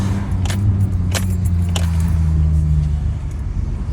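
A car engine idling with newly done exhaust work, a low steady rumble throughout, close and loud, with a few brief metallic jingles over it.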